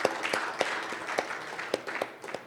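Scattered hand clapping from a conference audience honoring the MikroTik team, sparse and uneven with distinct individual claps over a dense wash, moderately close.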